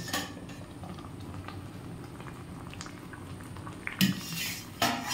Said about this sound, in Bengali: এতক্ষণে ঢাকাটা আস্তে আস্তে তুলে নিচ্ছে।